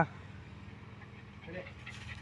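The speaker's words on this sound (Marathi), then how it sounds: "कुत्रा कोणाची आहे ते" A dog pants and whimpers faintly nearby in a village in Roha, Raigad, under people talking.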